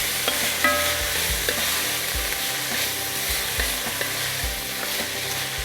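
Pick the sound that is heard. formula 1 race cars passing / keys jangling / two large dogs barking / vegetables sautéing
vegetables sautéing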